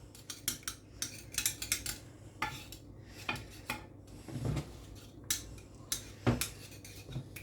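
A palette knife scrapes and clinks against a pan as lasagna sauce is mixed, producing repeated sharp metallic taps and scrapes in an uneven rhythm, close and fairly loud.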